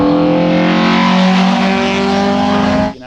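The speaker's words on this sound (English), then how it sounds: "You watch it though when it hits VTEC." A Honda K24 engine swapped into a Datsun 510 wagon screams at high revs into VTEC, a loud, steady howl recorded up close that cuts off abruptly at the end.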